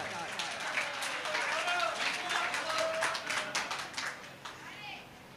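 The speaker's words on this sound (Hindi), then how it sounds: "एक बार जोरदार तालियां" Loud audience applause at a large kavi sammelan poetry gathering, a dense wash of clapping that swells and then gradually thins out, with some voices mixed in.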